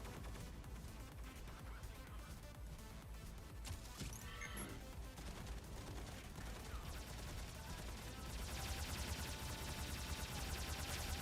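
Mech combat gunfire in the video game Mech Arena comes as dense, continuous volleys of shots and impacts, faint and low in level, building slightly toward the end with no clear speech.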